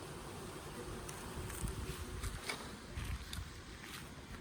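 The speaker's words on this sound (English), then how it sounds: "So you can see the pile of bees that's down there." Russian honey bees from a package swarm inside a hive, giving a steady low, dense buzzing hum that stays even and close throughout with no voices.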